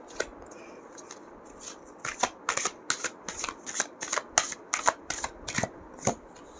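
Tarot cards being shuffled and drawn, a quiet riffle followed by a fast series of crisp card slaps and flicks in an uneven rhythm, close up, with no talking.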